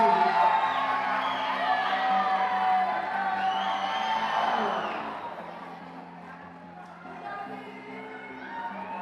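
A crowd cheers and whoops at a Yank-N-Yard competition final, loud and sustained at first, then dipping and rising again, with shouting voices mixed in.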